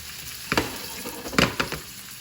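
Frozen asparagus tips frying in a pan, a steady hiss of sizzling oil broken by a few sharp crackling bursts and stirring scrapes, close and alone.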